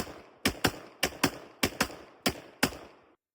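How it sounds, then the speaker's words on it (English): Two Colt M1917 .45 service revolvers fired together, sharp loud reports coming in close pairs, five double bursts spaced about a half second apart, then silence. "try and shoot both of them at the same time"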